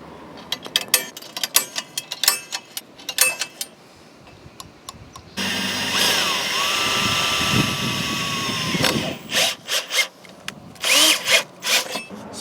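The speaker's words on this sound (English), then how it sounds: "So we got 4 new holes drilled." A power drill whines loudly in several short bursts while drilling holes during a mini bike rebuild, then runs in one long sustained drilling stretch before a few more brief bursts.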